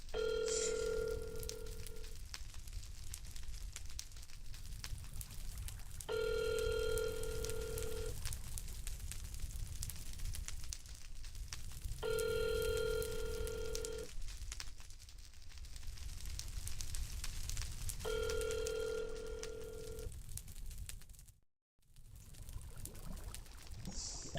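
A telephone ringback tone sounding while a call connects, four evenly spaced rings each lasting about two seconds with pauses between, over a faint background hiss before a brief cutoff near the end.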